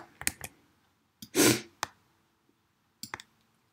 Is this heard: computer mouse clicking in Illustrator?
yes